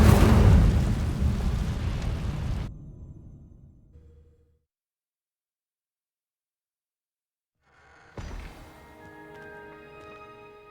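Incendio fire spell cast in Hogwarts Legacy, a loud roaring burst of flame that fades over a few seconds into silence, followed by a sharp impact and a ringing, shimmering magical tail.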